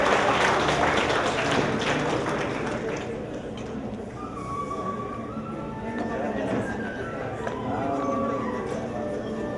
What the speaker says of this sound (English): Another round of applause for the Department of Education.